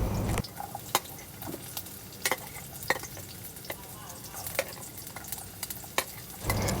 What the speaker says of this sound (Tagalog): kailangan natin maggisa ng bawang, sibuyas